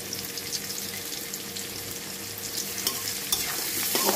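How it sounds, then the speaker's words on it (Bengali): Chilies fry in hot oil with a steady, close crackling sizzle that grows slightly louder toward the end, with scattered sharper pops and no talking. "মরিচ কাটিয়ে তেলের মধ্যে ভাজা ভাজা করলে মুরগিটা খেতে স্বাদ মজা"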